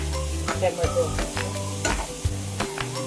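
Tomato roasts in a pan for amti, giving a low, steady sizzle with utensil taps and stirring scrapes, under a droning tonal hum throughout.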